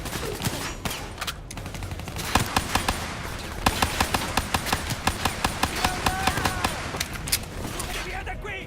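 Machine gun fire in the Black Ops 3 video game: a sustained rattling stream of rapid automatic shots amid battlefield noise and distant gunfire, with shouted voices mixed in.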